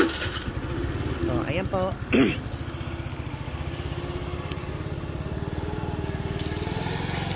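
Motorcycle engine cranking and catching, then settling into a steady, rapid idle putter close by, with someone talking briefly over the start.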